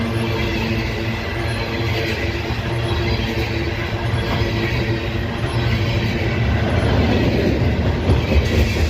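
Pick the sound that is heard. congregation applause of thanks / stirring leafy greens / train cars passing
train cars passing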